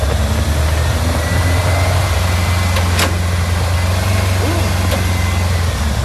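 A VW Beetle on a test drive with no windshield, its engine droning low and steady close by while the gears are worked, with wind rushing over everything.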